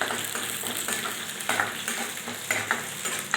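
Mustard seeds, cumin and lentils frying in hot oil for coconut rice, giving a dense close crackle and sizzle with a few light spoon scrapes as they are stirred, and no speech.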